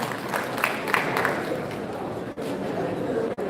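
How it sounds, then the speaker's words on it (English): Round of applause for a professor at a mentorship summit in Kano, a broad sustained clapping from a large audience mixed with crowd murmur and chatter, loud and continuous with two brief dropouts. "Please, another round of applause for Professor Sidi."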